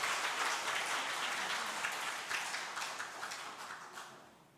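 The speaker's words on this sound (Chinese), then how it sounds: "我们再次用掌声来欢迎他们" A church congregation applauds newly baptized members, a dense burst of clapping that starts full and gradually thins and fades over a few seconds, heard from within the hall with no speech.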